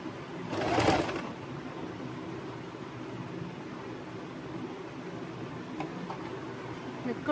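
A sewing machine runs with a pico foot, its soft continuous mechanical whir going on steadily and quietly, with a brief louder burst near the start and faint background noise.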